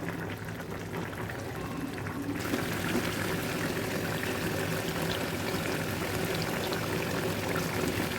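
Fried potatoes going into a pan where tilapia is frying, giving a steady loud sizzle that swells after a couple of seconds and holds, close and without talk.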